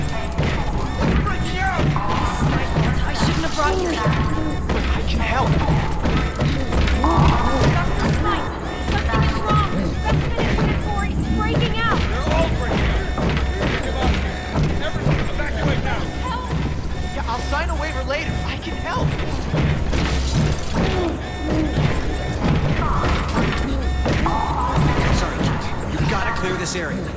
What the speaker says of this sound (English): It's breaking the glass!